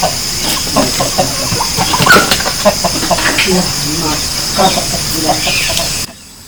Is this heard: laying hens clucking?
yes